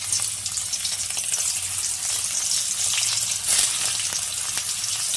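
Stuffed teasel gourds fry in hot mustard oil in a kadai, giving a steady, close hiss and crackle of sizzling that runs throughout without any talking.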